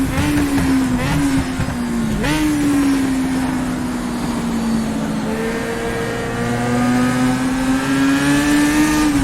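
A 1960s Formula race car in the rFactor2 sim racing game revs hard and accelerates, its engine note rising and falling through gear changes, loud and close throughout.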